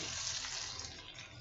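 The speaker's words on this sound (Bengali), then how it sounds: "এখন আমি এখানে পানি দিয়ে দিব।" Slightly warmed water pours into a pan of cooked-down taro and prawns, producing a short, fairly quiet, continuous rushing splash that fades a little toward the end, with no voices.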